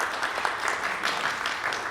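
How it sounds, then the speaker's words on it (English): A conference audience bursts into sustained applause, a dense wash of clapping that holds steady and fairly loud for a couple of seconds with no speech on top. "I think the UAE needs a big round of applause for getting COP28 message in Dubai."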